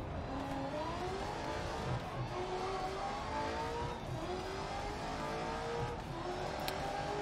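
A race car in Grid Legends engine revving and shifting through gears as it brakes late into a corner, with steady road and tyre noise, continuous and moderately loud.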